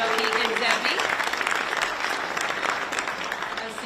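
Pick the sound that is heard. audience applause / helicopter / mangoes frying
audience applause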